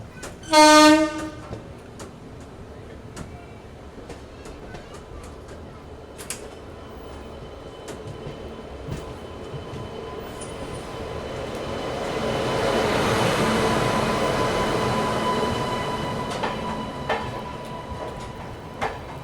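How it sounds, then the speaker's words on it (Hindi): Duronto Express passenger train pulling out of Kazipet station and picking up speed, with a short horn blast near the start, then a steady rolling rumble that swells into louder rail noise toward the end. "प्लेटफॉर्म एग्जिट करते करते हमारी ट्रेन ने एक्सेलरेट कर लिया है यहाँ पे काजीपेट स्टेशन से।"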